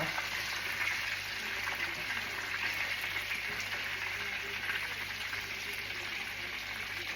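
Breaded chicken quarters frying in a pan, a steady, soft hiss of sizzling oil that runs unbroken throughout, with no talk.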